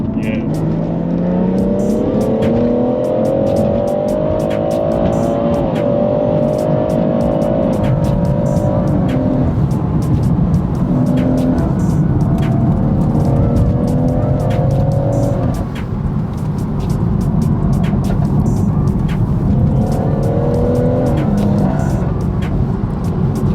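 A track-spec BMW M140i driven hard through corners: the engine revs rise and fall through the gears with bursts of tire squeal, all over a constant loud road and cabin roar.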